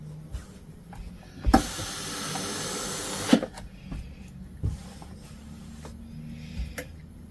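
Steam iron pressing folded waist darts on garment fabric, a single loud hissing burst of steam lasting about two seconds, with soft thumps of the iron before and after in a quiet room.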